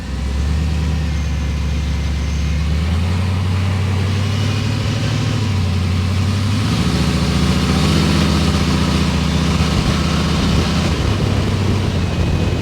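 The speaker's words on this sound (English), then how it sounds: "Still feels like it's idling a little bit high." An old Chevy COE truck engine idles steadily and close by, slightly high, a low rumbling drone whose pitch shifts slightly upward partway through, with no voices.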